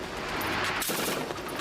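A sniper rifle fires rapid shots one after another at a target, producing a dense, continuous volley of gunfire that stays loud throughout.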